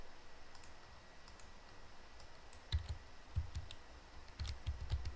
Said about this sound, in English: I'm terrible at typing while playing